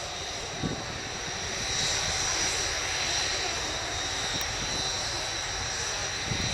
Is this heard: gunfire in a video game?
no